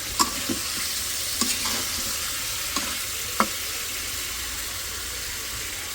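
A fish curry simmering and being stir-fried in a pan gives a constant soft sizzle and hiss, with a few light clinks of the spoon against the pan and no speech.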